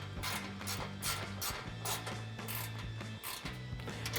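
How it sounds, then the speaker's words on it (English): A 13mm ratcheting wrench tightens a bolt on a rear storage security cover in a Jeep Wrangler JL. Rapid, close metallic ratchet clicks run steadily in bursts, broken by brief pauses between strokes. "I'm going to take my 13mm ratcheting wrench."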